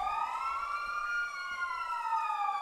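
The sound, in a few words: police car siren passing in a video game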